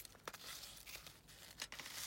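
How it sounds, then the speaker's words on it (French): Scissors cut open a small paper gift bag up close, giving quiet bursts of crinkling and papery snipping with short pauses between them. "attendez, je vais prendre mes ciseaux."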